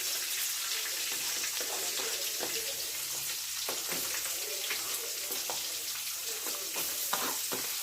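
Onions frying with curry leaves in a pan, a continuous soft sizzle under scattered light scrapes and clicks of stirring, fairly quiet and steady throughout.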